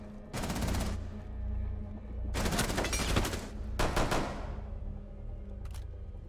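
Rapid automatic gunfire in Rainbow Six, a clip being emptied in long bursts, followed by sharper, shorter handgun shots and a faint final report, loud and close with no talk.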